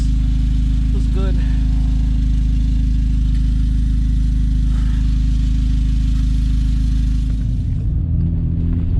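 A Mk6 Golf R with a stage 2 plus APR tune idles with a steady deep exhaust drone and a faint rattle from an unmounted exhaust point, loud and constant, with a brief change near the end.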